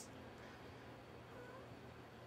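A house cat meows faintly a few times indoors, soft and somewhat distant against a steady low background hum.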